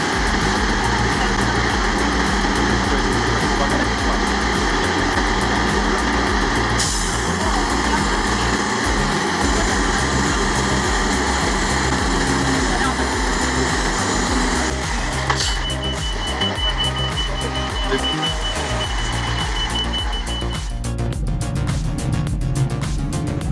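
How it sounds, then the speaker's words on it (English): Off-road trucks carrying desert sand, crossing rough ground and a rushing stream, produce a continuous heavy engine roar that stays loud and dense throughout, with shifting mechanical rumble and occasional higher whines. "The trucks are brave, resilient, with roaring engines, tirelessly rolling on every road"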